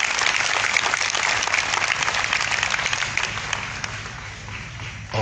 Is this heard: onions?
no